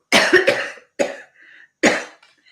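Three harsh coughs close to the listener: a double cough, then a shorter one, then a final one after a brief pause.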